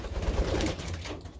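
Pet pigeons being kept separated coo close by in a soft, throaty, murmuring burble, rising and falling over a moment with no talking.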